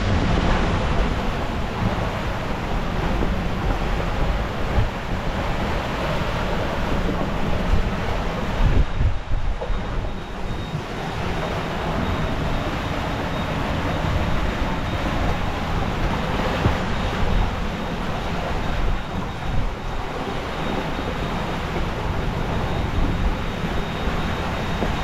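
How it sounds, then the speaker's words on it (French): Strong squall wind at sea aboard a solo sailing boat in the Caribbean trade winds, gusting to about 30 knots: a loud, steady roar of wind and rushing water with microphone buffeting, continuous for the whole stretch, no voices. "Le vent monte à 30 nœuds."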